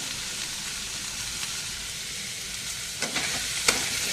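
Ingredients for a cheesy paneer sandwich frying in a pan over a high flame, giving a steady, dense sizzle throughout with a few light stirring clicks and taps near the end and no voices.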